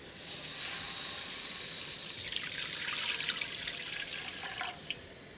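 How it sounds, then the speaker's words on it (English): Water poured into a kadai pot on a gas stove, a soft trickling and splashing stream, faint and close, with a few small drips near the end. "Add water."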